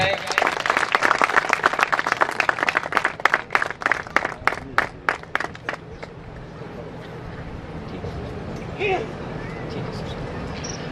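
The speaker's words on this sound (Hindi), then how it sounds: "जोरदार तालियां बजाएं।" Loud audience applause at an opening ceremony for a biocoal factory, with rapid clapping that fades out after about six seconds, leaving a quiet outdoor murmur and a brief voice.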